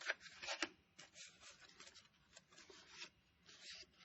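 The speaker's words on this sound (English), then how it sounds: "flatten out this twisted paper so that it's flat again" Twisted craft paper, destined for Indian corn pins, is unfolded and smoothed flat by hand, with soft crinkling and rubbing strokes coming in uneven bursts, close and fairly quiet.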